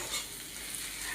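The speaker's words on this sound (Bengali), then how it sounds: "তারপর ডিম দেবো ওর মধ্যে, ডিমের মধ্যে তাও তেল যাবে।" An egg frying in oil in a pan, giving a brief, steady hiss of sizzling with no talk.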